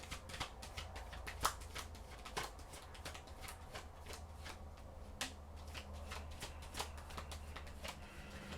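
Tarot cards are shuffled by hand close up, with quiet riffling and repeated soft snaps and taps in an uneven rhythm, heard alone at low volume.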